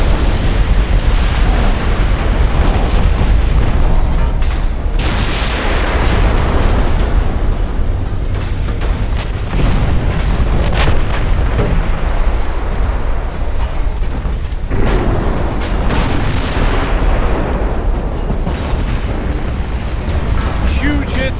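Heavy naval artillery in Ultimate Admiral Dreadnoughts booms continuously, with dense overlapping blasts and explosions forming a loud, rumbling barrage while someone talks throughout.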